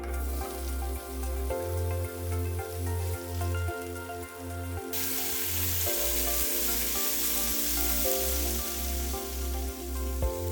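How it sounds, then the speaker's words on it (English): Onion, carrot and red pepper frying in olive oil, a continuous close hiss that grows louder partway through, over a steady low pulsing hum. "fry the onion, carrot, and red pepper mixture until lightly browned"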